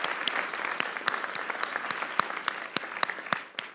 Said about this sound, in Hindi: इंडिया के लिए तालियां